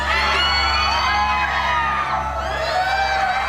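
Loud shouting and whooping from a crowd of people outside, not far off, a dense continuous clamor of many raised voices with shifting yells rising above the mass.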